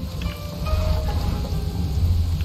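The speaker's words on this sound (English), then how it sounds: "I do not mind the rain." Steady rain falls in the ninja stealth game Shadow Tactics: Blades of the Shogun, a continuous dense hiss with a low rumbling undertone and faint tonal ambience, unbroken throughout.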